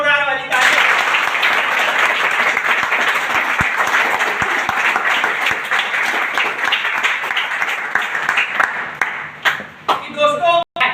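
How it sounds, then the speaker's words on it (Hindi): A crowd gives loud, sustained applause for a company managing director at an indoor business gathering, dense clapping running nearly the whole time before thinning out into a few scattered claps at the end. "कंपनी के एमडी संजीव कुमार सर के लिए जोरदार वाली तालियां"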